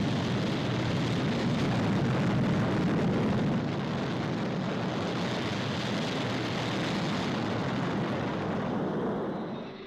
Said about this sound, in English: The mighty motors lifted it skyward with maximum thrust.